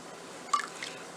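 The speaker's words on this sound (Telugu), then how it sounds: "ఇందులోనే 1 బద్ద నిమ్మకాయ పిండుకోవాలి" A lemon half is squeezed into water boiling with oil for basmati rice, giving a single brief, soft squishy drip with a smaller trailing drop over a faint steady background.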